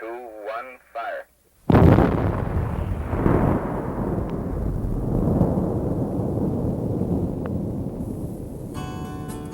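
A mining blast erupts after a radio countdown, a short crackly transmitted voice giving way to a sudden heavy boom and a long rolling rumble that fades slowly, with faint radio chatter near the end.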